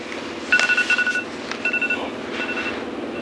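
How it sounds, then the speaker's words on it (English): A cell phone that has fallen to the ground in a car paint shop sounds nearby in rapid pulsing electronic bursts, two groups of quick repeated tones over a steady background hum. "You hear it buzzing here?"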